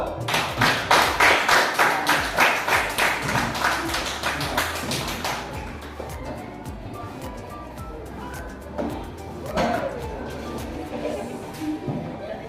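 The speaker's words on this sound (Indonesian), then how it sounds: "Tepuk tangan dulu" Children in a school group clap hands together in a brisk rhythmic pattern that fades after several seconds, followed by quieter room sounds and an adult voice.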